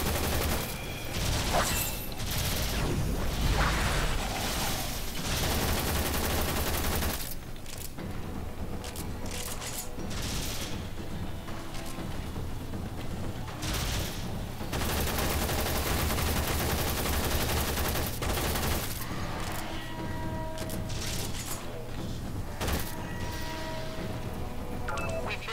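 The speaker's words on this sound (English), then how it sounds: "Whoa! Bullets!" Futuristic weapons fire in the space ninja shooter game Warframe, rapid bursts of gunfire coming in repeated clusters with brief pauses, loud and dense over a steady game soundtrack.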